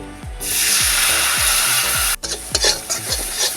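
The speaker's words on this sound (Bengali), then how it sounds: "আমি এটা ভালো করে একটু ভেজে নেব" Okra curry frying in a pan with chilli powder, turmeric and a splash of water, a loud close sizzle under repeated scraping stirs of a utensil, no talking.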